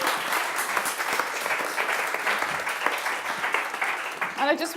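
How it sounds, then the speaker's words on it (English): Audience at a talk applauding, a dense sustained clapping from a crowd for several seconds with a voice heard faintly over it at the close. "Let's give yourself a round of applause."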